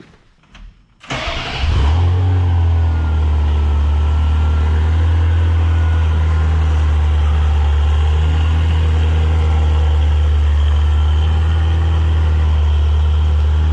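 A Ferrari engine cranks and fires up after a brief moment of quiet, then settles into a loud, steady warm-up idle up close.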